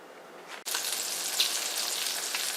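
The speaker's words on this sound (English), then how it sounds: "So the Magret is cooking" Duck magret frying in a pan, its rendering fat crackling in a loud, dense sizzle that starts abruptly after a short quiet moment and holds steady.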